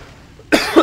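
A single sharp cough bursts out close to the microphone after a short quiet moment.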